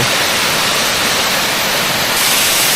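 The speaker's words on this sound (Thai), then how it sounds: "ข้างบนนั้นก็คือน้ำตกที่ไหลลงมาจากก้อนหลวง" A waterfall at Kor Luang in Li district, Lamphun, pours down in a loud, dense, unbroken roar heard close up, with no voices.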